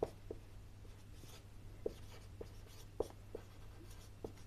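Writing on a classroom board during a physics lesson: faint, sparse taps and short scratches of the writing tool arrive at irregular intervals over a low steady hum in a quiet room.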